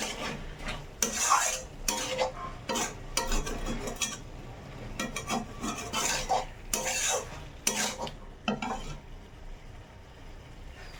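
Green chillies are added to a frying pan along with vegetables and stirred, producing repeated scraping strokes of a spoon against the pan in uneven bursts over a soft sizzle, close and moderately loud.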